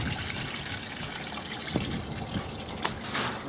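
Bio-fuel oil drains from the open valve of an 80 mesh Y trap filter in a processing setup, a steady, close, continuous liquid rush and trickle with a couple of small splashes, heard alone.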